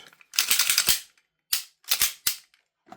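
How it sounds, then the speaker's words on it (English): The slide of an EMG/Army Staccato C2 COMP airsoft pistol is pushed back together and the slide release popped in, giving a close rattle of metal sliding followed by three sharp clacks, then a faint tick. "Slide the pistol together, pop the slide release in with a little notch lined up."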